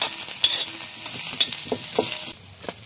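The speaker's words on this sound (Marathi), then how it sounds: "आता यातच टाकते आलं, लसूण आणि हिरवी मिरची" Ginger, garlic and green chili sautéed in a pan, with a soft constant sizzle and a few light scrapes of a spoon turning them, close and fairly quiet.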